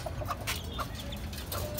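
Four hens, two of them tiger-type chickens, cluck softly and intermittently while feeding, with scattered short calls at low volume and no talking.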